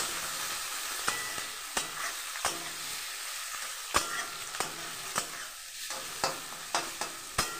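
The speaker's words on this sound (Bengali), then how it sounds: "এই দেখুন আমি মাংসটা ভেজে নিই লাল লাল করে" Mutton pieces fry hard in a pan with dried red chillies and onion, a steady loud sizzle broken by regular scraping stirs of a spatula, close up and without any voices.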